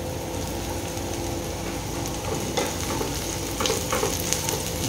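Ginger and garlic fry in hot oil in a pan for a chicken rasa, a steady close crackling sizzle with occasional sharper pops and stirring scrapes, and no voices.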